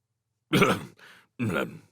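A short, nervous cough in two quick bursts, close and clear against silence.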